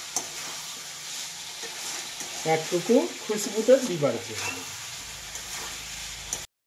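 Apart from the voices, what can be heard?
chicken frying with meat masala in a pan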